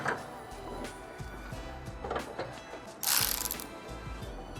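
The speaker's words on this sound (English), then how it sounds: "Yes, Dave, it's a cordless ratchet." Cordless ratchet tightening bolts while fitting carbon fiber parts on a GR Corolla, giving a brief whirring mechanical burst with clicks amid workshop clatter, fairly close.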